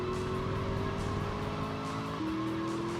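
Car tires squealing in GTA Vice City Stories, a sustained, steady screech with engine drone, close and loud throughout, alone without talk.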